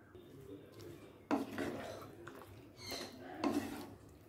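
A spoon scrapes and stirs fresh cream into navratan curry in a pan, with a few brisk rasping, clattering strokes against the metal, close up and with no talking.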